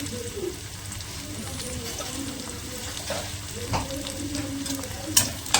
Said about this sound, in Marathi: त्याला आता फ्राय करते पण नेहमीप्रमाणे फ्राय करायचं आहे कांदा नरम होण्याच्या आधी